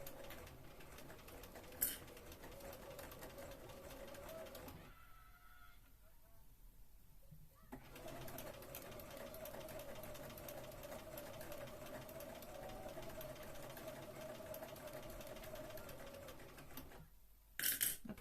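A sewing machine stitches a Regency dress in a steady, continuous whir that runs for several seconds, pauses briefly, then resumes and carries on at an even pace close by, with no talk over it.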